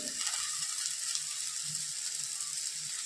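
Noodles hit a pan of sautéed vegetables for Chinese-style veg noodles, setting off a steady, bright sizzle, with soft stirring scrapes beneath it.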